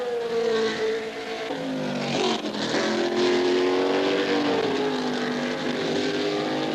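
Can-Am race cars, a field of 20 of great technical variety, race at Mosport in 1983, engines screaming and rising in pitch through gear changes as they pass, loud and continuous with no talk.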